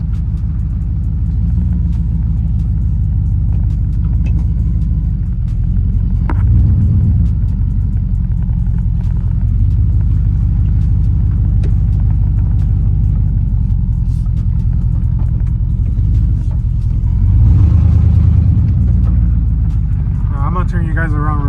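Chevy OBS pickup truck rolling along a dirt road, a steady low engine rumble heard from inside the cab, continuous and fairly loud, with someone talking over it.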